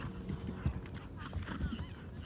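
Horse at a cross-country eventing competition, the Badminton Horse Trials, with hoofbeats clip-clopping and a neigh over steady outdoor ambience, all continuous under a faint background voice.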